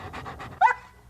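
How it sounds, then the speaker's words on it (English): A dog pants in quick, soft breaths, followed by a short, higher whine or yip, close by. "For example, that's a happy dog."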